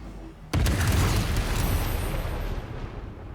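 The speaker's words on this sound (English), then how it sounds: "Arcane battery on. Strongest magic missile I can do." A magic missile spell explodes in Baldur's Gate 3, arriving as one sudden loud boom that rolls into a sustained crackling blast and slowly fades, with no talking over it.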